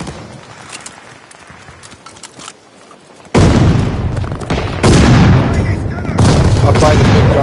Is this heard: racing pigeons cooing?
no